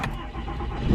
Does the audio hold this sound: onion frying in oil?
no